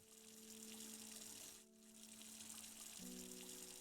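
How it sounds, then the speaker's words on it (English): Water pours steadily from a watering can onto plants in the video game Strange Horticulture, a continuous soft gushing with a brief dip in the middle, over a low hum and no talk. "I can just sit here and dump water on them all day"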